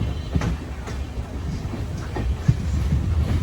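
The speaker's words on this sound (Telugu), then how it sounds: "బయలుదేరింది బండి." Train pulling out of Chittoor station in Andhra Pradesh, a low rumbling roll with rhythmic clacks of wheels over rail joints, heard from inside a carriage, steady and fairly close.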